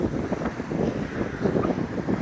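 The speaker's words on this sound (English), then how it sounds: "You probably can't hear me over this wind." Strong wind blowing outdoors, a steady low rumbling buffet with gusty fluctuations, loud and close as if hitting the microphone, no other sounds standing out.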